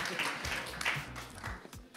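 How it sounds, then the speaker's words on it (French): An award ceremony audience for a national science competition claps, a brief, moderate wash of applause in a hall with some voices talking over it. "On peut les applaudir quand même."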